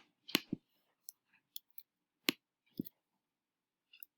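A handful of sharp, quiet clicks, spaced irregularly with short pauses between them, close by in an otherwise silent room.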